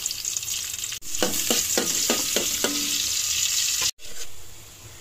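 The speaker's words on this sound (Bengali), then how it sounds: "যে এখন ইলিশ মাছের মাথাগুলো দিয়ে দেব।" Hilsa fish heads frying in hot oil, a loud, dense sizzle with a quick run of rhythmic scraping strokes in the middle, broken by two brief cuts.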